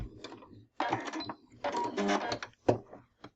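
A sewing machine stitches binding onto a quilt in short bursts, each run a close, rapid mechanical whirring, separated by brief pauses and a final short stitch.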